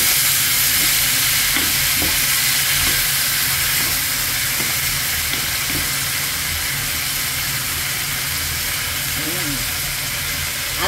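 Bihon noodles stir-fried with leftover pork adobo in a pan, a loud, constant sizzle and hiss with scraping stirs, and a voice talking over it.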